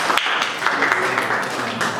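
Group of people clapping for a boy during a spiritual talk, a dense loud burst of applause with voices overlapping it.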